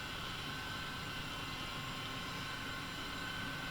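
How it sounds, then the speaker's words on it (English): An H135 helicopter flies in Flight Simulator 2020, a steady, even broadband whine and rotor rumble holding at a constant moderate level throughout, with no speech. "The helicopter just has that agility feel to it."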